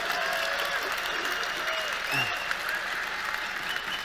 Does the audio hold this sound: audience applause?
yes